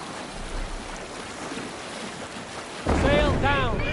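A Viking longship sailing at sea in Assassin's Creed Valhalla, with steady wind and rushing water, and a louder surge of wave and creaking near the end.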